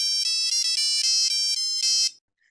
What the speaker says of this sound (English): And the satellite phone ringtone,